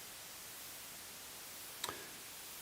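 The NoInputMixer iOS app, set to white noise, produces a faint, steady broadband hiss that runs throughout, broken once near the end by a brief soft click.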